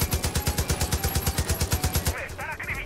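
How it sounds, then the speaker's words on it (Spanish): Rapid automatic gunfire from the video game Far Cry 5 rattles in a steady burst of about twenty loud, close shots, then stops as a voice calls out. "¡Me están cogiendo tiros!"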